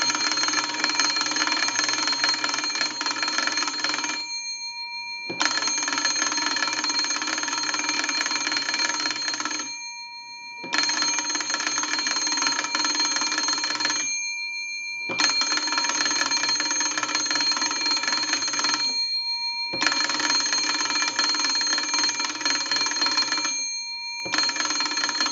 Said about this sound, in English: crank the magneto and ring the original bell